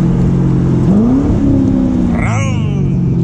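Sports car engine revving while moving, loud and close throughout, its pitch rising and shifting then a burst of higher revving near the end; the car may be a Porsche 911 or a Corvette.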